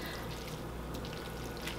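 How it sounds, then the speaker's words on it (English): Pasta water poured into a pan of spaghetti aglio e olio, a steady close pour lasting a couple of seconds with no talking. "you can certainly add in more pasta water"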